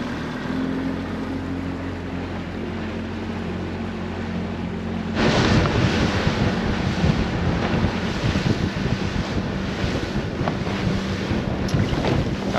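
A fishing boat heads offshore for walleye, its motor droning steadily before it surges louder partway through, with rushing water and heavy wind buffeting the microphone close up.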